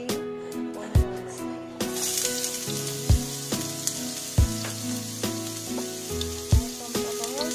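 Chopped onions frying in hot oil for fried rice give a soft, continuous sizzle. Rhythmic thumps and tonal background music sit on top of it throughout.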